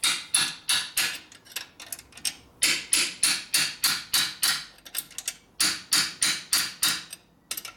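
A hammer strikes a wrench while torquing a 1967 Harley-Davidson 74ci shovelhead transmission. The sharp metallic blows land close and loud in quick rhythmic bursts of about five, around twenty strikes in all, with no talking.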